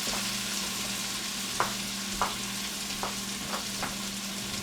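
Shrimp frying in a hot pan for cheesy shrimp risotto, with a steady close sizzle and a few soft stirring knocks spaced through it.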